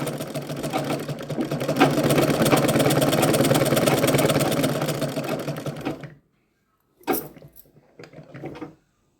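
Sewing machine stitching the back seam of a blouse lining at a half-inch allowance; a fast, steady needle chatter runs for about six seconds, stops, then comes back in two short bursts.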